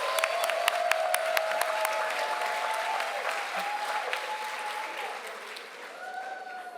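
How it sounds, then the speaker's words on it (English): Steady audience applause at a congressional town hall hosted by the NAACP Miami-Dade greets the District 24 candidates, an even wash of clapping lasting throughout with a few sharper claps early and faint voices underneath. "Let's give them all a round of applause."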